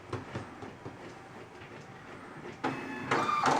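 A printer runs a job of custom image strips for a document binder, a busy mechanical rattle and clatter that grows louder and denser toward the end.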